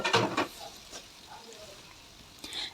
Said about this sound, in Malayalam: ഇനി ഒന്ന് ചൂടായി കഴിഞ്ഞാൽ നമുക്ക് അതിലേക്ക് ബാലൻസ് ഉള്ള നാല് ഉള്ളി അരിഞ്ഞതും കൂടെ ചേർത്ത് കൊടുക്കാം